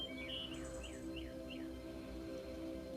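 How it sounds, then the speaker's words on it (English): Birds sing in the background, a few faint chirps and short descending whistled notes over a steady musical drone, distant and soft with no voices. "birds leading the chorus."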